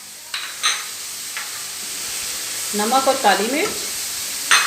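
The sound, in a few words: stirring vegetables and green onions in pan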